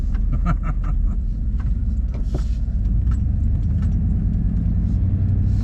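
Steady close road rumble from inside a moving car, with small rattles and clicks over the low engine and tyre drone.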